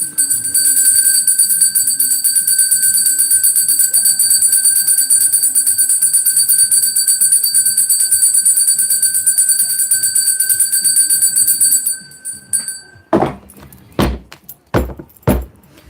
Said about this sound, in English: just gonna ring that bell again